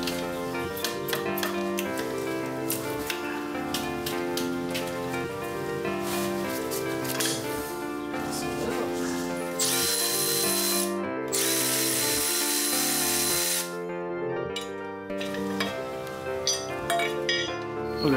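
Power tool and ratchet work on the 15 mm engine bracket bolts of a 2002 Cadillac Deville DTS, with a whirring tool running in stretches, metallic clinks and rattles, loud and near, without speech.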